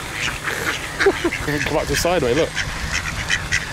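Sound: tame ducks quacking

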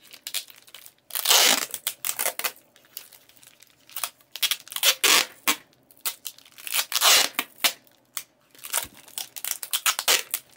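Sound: scissors cutting a plastic mushroom grow bag

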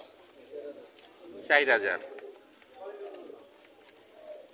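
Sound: pigeons cooing at pigeon market

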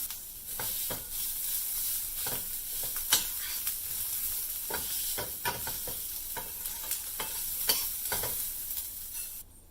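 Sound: sautéing green chili, curry leaves and grated coconut in pan

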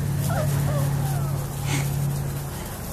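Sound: puppies whimpering and yipping

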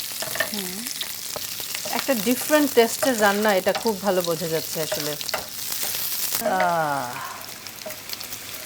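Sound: whole garlic cloves frying in oil

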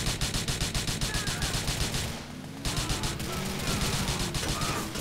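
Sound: gunfire in a sea clash with Russian gangs, from the video game GTA IV

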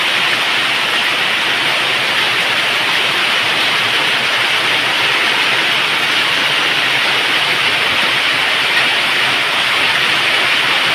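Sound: heavy rain with wind

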